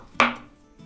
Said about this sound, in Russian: И быстренько нарежем зелень. Нарезаю шпинат